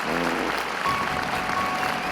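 A crowd sound effect of cheering and applause roars steadily and loudly throughout, a dense wash of clapping and voices without pause.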